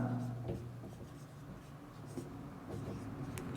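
Marker or chalk writing on a board during a tenth-grade math proof about real numbers, soft scratchy strokes in short bursts under a teacher speaking.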